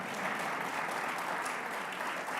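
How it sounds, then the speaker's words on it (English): An audience at a public event with the governor claps steadily, a broad, even wash of applause at moderate volume from start to finish. "you can give a round of applause for that"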